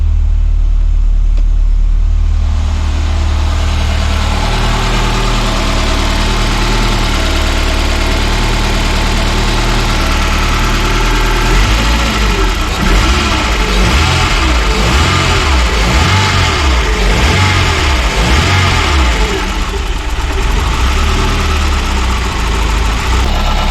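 The engine of a Peugeot 205 GTI idles at about 1000 rpm, loud and close. It gives a steady rumble, and its tone wavers and pulses slightly midway through the long stretch.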